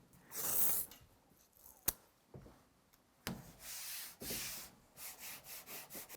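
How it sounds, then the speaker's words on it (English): Masking tape peeling off a roll and being pressed and rubbed across a smooth acrylic bath surface, with tearing rips and a few short rasping strokes, close up. "I'm going to put a couple of lines of tape all the way across here to protect it"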